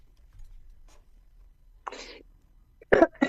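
A person with flu coughs once, a sharp close burst followed by a second short cough, with a softer throaty sound shortly before in an otherwise quiet room.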